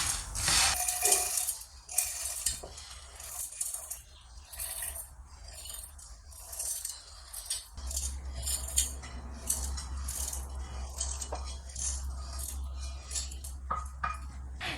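Roasted dals scraped and tipped from a pan into a mixie jar, a run of close metallic clinks, scrapes and rattles of utensil on cookware, with a steadier low rumble taking over partway through.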